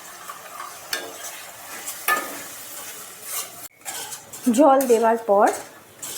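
Spice paste for shankar (stingray) fish kasha is stirred and fried in a pan, giving scattered scraping strokes and a soft sizzle at close range, with a person speaking briefly near the end.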